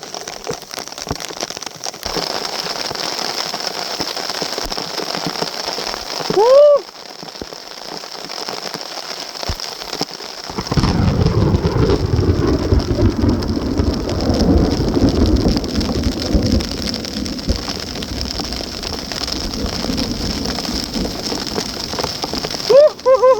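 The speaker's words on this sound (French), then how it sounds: "il y a bien un troisième orage qui est en train d'arriver par l'ouest" Heavy rain pours steadily during a violent thunderstorm, growing louder and denser partway through, with low rumbles of thunder and a couple of brief squeaky sounds.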